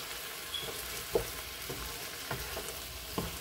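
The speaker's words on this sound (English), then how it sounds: "I'm gonna fry the last two when they're done" Vegan chopped cheese patties fry in a pan with a steady crackling sizzle, broken by a few louder pops and scrapes at irregular intervals, close and moderately loud with no voices.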